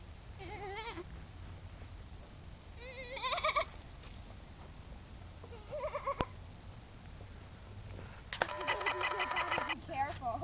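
Baby goats give a few short, wavering bleats at close to moderate distance around rocks, with scattered clatter and faint talk in the background.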